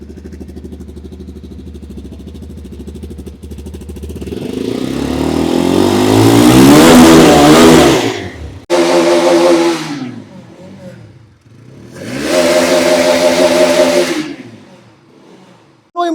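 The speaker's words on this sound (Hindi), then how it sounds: "एग्जॉस्ट नोट आप नोटिस कीजिए पल्सर 220 का" A Bajaj Pulsar 220 motorcycle engine idles, then revs up hard several times in long surging bursts with brief drops between, loud and close.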